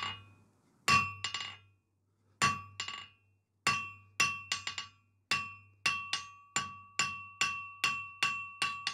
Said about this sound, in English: I'll come on the near edge of the anvil and just be accurate with my hammer blows